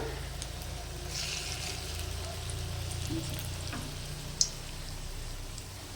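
Bengali-style fritters (bora) sizzle steadily in a pan of hot oil, a continuous close crackle with one sharp pop near the end and no talk over it.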